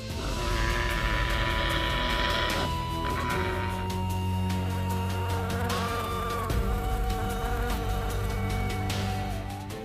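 An angry swarm of bees at a hive buzzes loudly and continuously, a dense droning hum with shifting tones that swells and holds steady throughout, no voices present.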